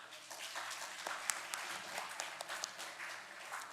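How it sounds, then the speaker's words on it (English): A university audience applauds steadily to welcome a guest speaker, with dense, fairly quiet clapping and a few sharper claps standing out. "I welcome Mr. Akshara Damle, sir, with a big, huge round of applause"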